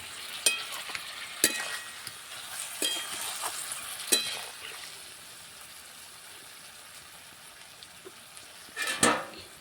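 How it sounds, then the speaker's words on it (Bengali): Chicken and mixed vegetables sautéing in a pan with added water, a soft simmering sizzle punctuated by sharp clinks and scrapes of a utensil against the pan, with a louder clatter near the end. "এবার জল দিয়ে কষতে থাকবো।"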